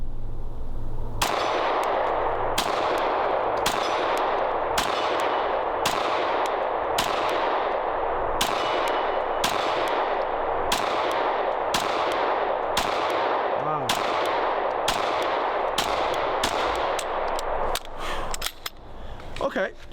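SIG P226 pistol fired two-handed at a range, a long string of about twenty loud, sharp shots at a steady, fairly quick rhythm, each with a short ringing tail.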